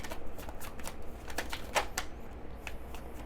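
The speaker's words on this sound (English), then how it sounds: "Let me get one more card." A tarot card is drawn and shuffled from the deck during a reading, giving a run of soft papery flicks and slides with one sharper snap near the middle, close and fairly quiet, with no talking.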